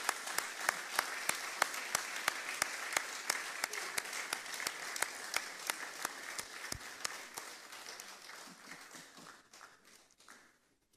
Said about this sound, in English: Ladies and gentlemen, please, with a round of applause,